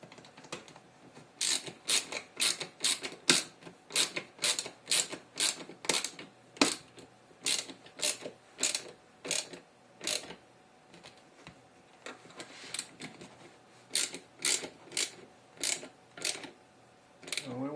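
Small screws are driven into a Tamiya LaFerrari TB04 model kit, heard as close, rapid bursts of crisp ratcheting clicks repeating in rhythmic runs with short pauses between.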